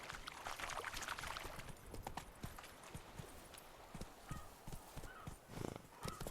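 Hoofbeats of the horse Roach galloping in The Witcher 3, with a steady run of clip-clop thuds that stays close and fairly loud throughout, sometimes swelling, with no talk.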